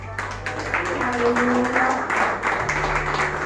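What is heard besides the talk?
congregation applauding in church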